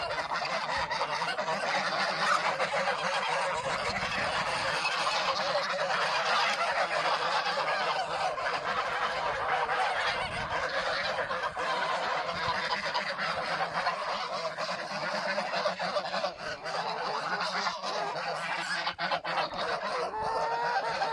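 Domestic geese in an orchard honk loudly and continuously while two flocks fight, a younger grey goose pecking at larger ones amid overlapping harsh cackling calls.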